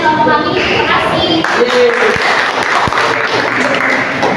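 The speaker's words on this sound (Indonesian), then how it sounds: "kita tepuk tangan untuk semua yang berbuat" Applause from a small group of university students after a class presentation on the inclined plane rises and continues in a dense patter of claps, with a voice or two faintly mixed in.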